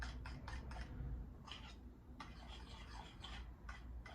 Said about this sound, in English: break eggs into a bowl, add the cream and mix roughly with a fork